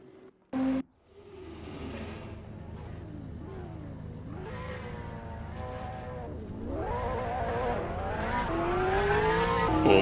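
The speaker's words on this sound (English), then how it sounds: "Oh my god, red car go fast" Race car engines in a sim racing game's holiday race, rising and falling as the cars shift through gears in repeated sweeps, loud and close, after a brief sharp noise at the start.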